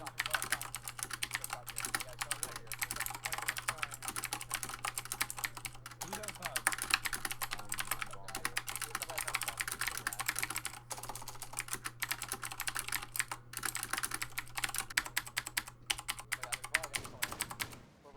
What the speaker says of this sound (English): Here's a typing test so you can hear.